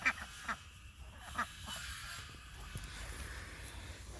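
Small ducks quack in a backyard garden, a few faint, scattered calls over low background hum and a soft, distant ambience.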